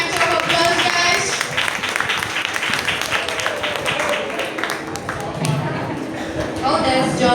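Audience applause breaks out during a lively maths podcast session, a dense patter of clapping lasting several seconds with voices talking over it.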